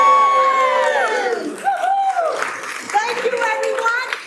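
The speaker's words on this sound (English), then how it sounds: "And we're going to cheer now." A crowd at a city council meeting cheers and shouts together, loud excited voices rising in bursts with scattered clapping, close and lively throughout.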